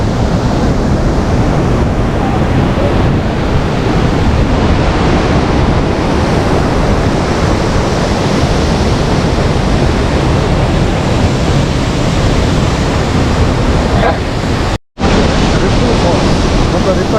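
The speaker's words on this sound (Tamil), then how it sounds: "அதனால தான் ரிப்பிள் ஃபால்ஸ். வேறு லெவலில் வாட்டர் ஃப்ளோ நல்லா இருக்குது." Ripple Falls, a waterfall on a river near Munnar in Idukki, roars as a steady, loud broadband wash of flowing water with no pause apart from one very brief dropout near the end.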